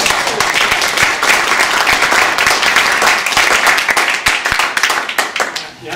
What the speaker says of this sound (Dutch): En een applausje voor de organisatoren nog maar.